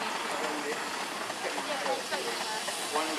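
An early-1930s steam lorry at a steam and heavy horse show gives off a steady, broad hiss of steam that runs for the whole stretch, with voices talking over it.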